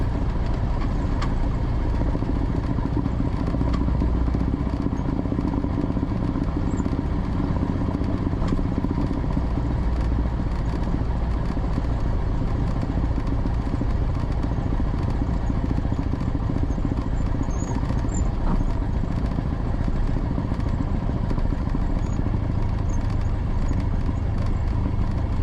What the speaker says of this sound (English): what we're doing right now is we're taxiing out to the run-up area